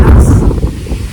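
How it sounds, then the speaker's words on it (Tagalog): Strong wind blasting the microphone at a high elevation in Infanta, Quezon, in a loud, low, rumbling roar, steady for a brief moment. "Sobrang lakas na hangin dito sa taas."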